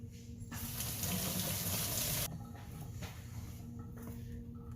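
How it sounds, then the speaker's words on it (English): Water running from a kitchen tap as hands are rinsed during steak kebab prep, a steady close hiss that is loudest for the first couple of seconds and then continues slightly softer. "Rinse my hands off real quick."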